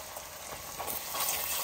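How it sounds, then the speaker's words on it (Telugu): Ginger garlic paste frying in a pan for Telangana-style mutton curry, a continuous crackling sizzle with soft stirring scrapes, close and steady. "సో అల్లం వెల్లుల్లిపాయ పేస్ట్ పచ్చి వాసన పోయే వరకు వేయించుకోవాలి"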